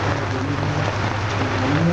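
Acid rain mixed with falling volcanic ash from the 2005 Santa Ana (Ilamatepec) eruption, seen from Juayúa, gives a steady, dense hiss over a low rumbling background, unbroken for the whole stretch.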